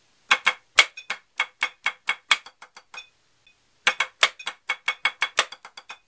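Drum lick with a syncopated rhythm ending on a rim shot, crisp dry strikes in two quick phrases separated by a brief pause, close and clean with no talking.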